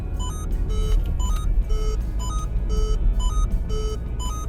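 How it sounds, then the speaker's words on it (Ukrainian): A Peugeot 308 from 2020 sounds its unfastened-seatbelt warning: a repeating pattern of soft electronic beeps in a steady rhythm, clear and close over a low cabin hum, with no talking. "коли вона сигналізує, що хтось не пристебнений, вона так легенько"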